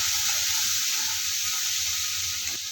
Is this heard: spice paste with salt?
yes